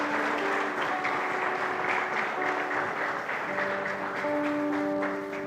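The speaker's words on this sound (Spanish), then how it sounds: "Denle un aplauso al papá" A church congregation breaks into steady, full applause during a sermon, dense clapping running throughout with sustained musical tones rising beneath it toward the end.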